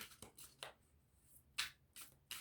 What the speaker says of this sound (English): I think that's enough shuffling.